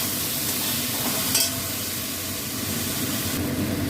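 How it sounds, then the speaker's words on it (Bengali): Pumpkin and bottle gourd curry is sautéed with cumin powder and sugar in a hot pan, a loud, close, continuous sizzle with a brief louder scrape partway through. "আর একটু চিনি দিয়ে দিলাম, একদম চিনিটা দিয়ে কষিয়ে নেবো।"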